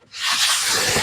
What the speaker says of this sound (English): I got me a wet rag, and I always take and wipe off any excess glue I got.